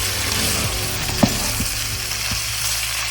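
Chicken and onion stir-frying in hot oil for fried rice, a continuous close sizzle with scraping stirs and a sharp utensil tap partway through, no voices over it.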